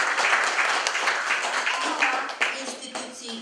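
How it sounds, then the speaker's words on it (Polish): Warm applause fills a hall at a volunteer awards ceremony honouring work with seniors, a dense, close patter of many hands clapping with voices mixed in beneath it. "Także jeszcze raz gorące brawa."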